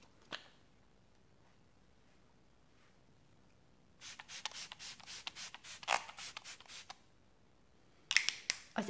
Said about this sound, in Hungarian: És akkor utolsó lépés a setting spray, ez a Smashbox-nak a Photo Finish Primer Waterje.